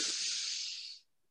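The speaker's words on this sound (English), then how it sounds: "So you should take a deep inhale" A single deep inhale during laughter yoga, a close, breathy airy rush lasting about a second before cutting off into silence.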